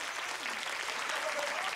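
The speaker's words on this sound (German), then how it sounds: "geben Sie mal einen Applaus, meine Damen und Herren" An audience claps steadily at a German motivational seminar, a short even burst of applause filling the room with no talk heard over it.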